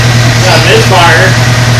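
A 2006 Saturn Ion idles with a misfire, a steady loud rumble with a faint uneven pulse, and someone speaks over it.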